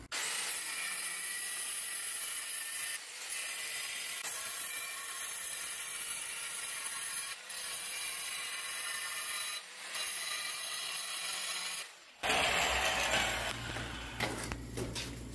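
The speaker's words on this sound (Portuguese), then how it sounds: "E depois a gente vem com a lixa 40, pra gente chegar mais perto" Sandpaper of 40 grit sands a wooden miter cut in a continuous, steady rasping scrape that runs for about twelve seconds with a few brief pauses, then changes to a rougher, rumbling sound near the end.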